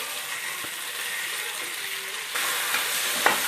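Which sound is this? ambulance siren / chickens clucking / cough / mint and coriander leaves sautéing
mint and coriander leaves sautéing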